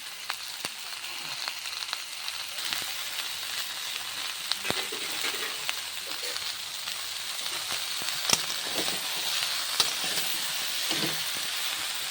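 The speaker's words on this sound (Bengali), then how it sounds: "এখানে কপি ভাজা চলছে, এর মধ্যে আমি নুন দিয়ে দিলাম" Cauliflower frying in a pan with salt added, a steady close sizzle and hiss with occasional sharp crackles and pops running throughout, no talking.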